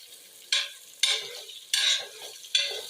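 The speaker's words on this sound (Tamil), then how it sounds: "நான் சும்மா கரண்டி விட்டு ஆட்டிகிட்டே இருக்கேன்" A ladle stirs mushroom biryani masala frying in oil, producing four distinct, evenly spaced scraping swishes over a soft background sizzle, close and moderately loud, with no talking.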